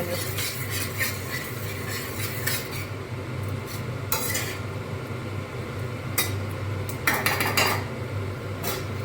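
Spice paste thinned with a little water for a katla fish and potato curry is stirred in a pot, a near, busy run of metal scraping and clinking from the spoon against the pot over a low steady hiss.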